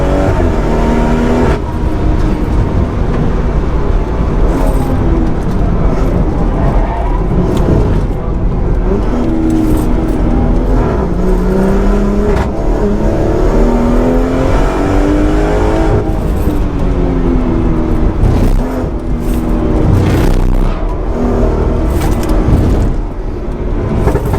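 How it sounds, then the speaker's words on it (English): A tuned 510bhp BMW M240i with twin-scroll turbos accelerates hard on a track, its engine note rising and falling steadily through gear changes, loud and continuous throughout with faint wind and road noise beneath. "The spool on these turbos, even the standard, is so quick because of the twin scroll."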